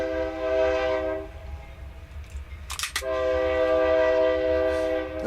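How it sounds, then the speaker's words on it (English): A train passes close by, sounding loud sustained horn blasts: one long blast, a short break, then another long blast, over a steady rail rumble with no talking. "Here comes the Freedom Train right on time."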